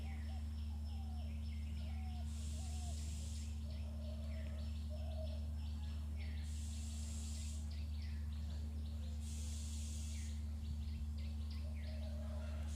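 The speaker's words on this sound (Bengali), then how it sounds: "পাখিদের মিষ্টি মিষ্টি সুরের গান" Birds sing in the morning with scattered chirps and short whistled calls from several directions, faint against a steady low hum and recurring bursts of hiss, with no talk.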